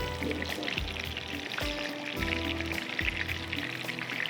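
Kebabs frying in a pan give a close, steady sizzle and crackle, with occasional louder spits and pops over the continuous hiss.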